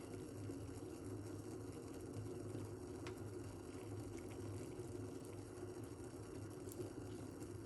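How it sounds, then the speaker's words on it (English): In a kitchen, a cook pours liquid off a pot, giving a low, steady watery rush under a faint background hum, with no talking. "So we're gonna pour it off now."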